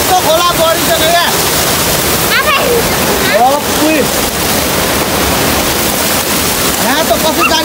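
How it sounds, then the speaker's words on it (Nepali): A swollen village stream in Nepal rushes loudly and steadily, a dense continuous roar of churning water close by, with a person talking briefly over it. "हेर्नु त यहाँ खोला बढेको गाइस"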